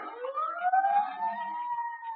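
Emergency sirens approaching, two wailing tones climbing and holding steady, clear and fairly distant against quiet surroundings.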